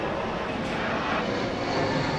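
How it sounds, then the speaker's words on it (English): An airplane passes over Smith's Playground in Fairmount Park, Philadelphia, with a loud, steady, broad engine roar filling the whole moment and no speech. "Yet another airplane."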